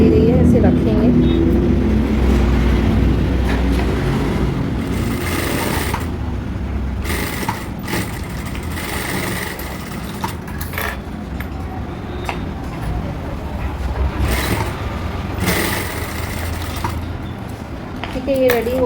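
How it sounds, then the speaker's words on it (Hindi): A sewing machine stitches satin fabric and canvas for a half elastic belt, its motor whirring in bursts of rapid stitching with pauses between runs, fairly close, while someone talks over it. "फिर से मैं एक पैर की सिलाई करूँगी।"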